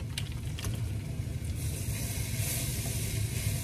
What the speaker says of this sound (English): let it cook until the spices are kind of toasting a little bit